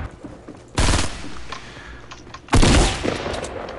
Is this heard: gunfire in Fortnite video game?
yes